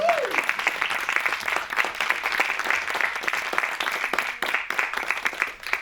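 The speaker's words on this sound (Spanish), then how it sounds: "quiero pedir un aplauso para Gil, para Janet y para Mike" An audience at a film screening and conversation event breaks into sustained applause, dense clapping from a crowd that holds steady for several seconds, with a faint voice briefly heard at the start.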